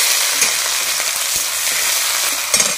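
Two garlic cloves with crushed ginger fry in hot oil for a tempering meant for moong dal with katla fish head, sizzling loudly and steadily up close with faint stirring clicks and no speech.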